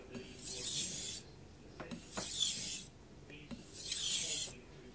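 A blade is drawn across a wet Japanese natural whetstone in three long, even strokes, each a smooth gritty rasp separated by brief pauses and soft taps, close and clear.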